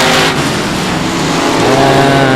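Race cars at South Texas Speedway rolling past the start-finish line, a loud, dense engine roar filling the whole moment, close by and continuous.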